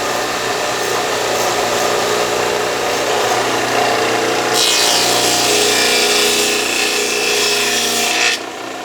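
Dado stack on a 12-inch table saw cutting black walnut: a loud continuous motor whine, then the blade bites into the wood with a harsh, dense roar for several seconds before dropping back to the idling spin.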